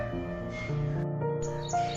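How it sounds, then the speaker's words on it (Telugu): Birds chirping outdoors in a kitchen garden, a steady scatter of short tweets and calls at moderate distance, with no talk. "బర్డ్స్ సౌండ్ వినిపిస్తుందా అండి మీకు?"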